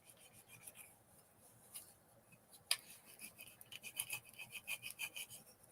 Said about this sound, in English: I just need to do a little more scraping.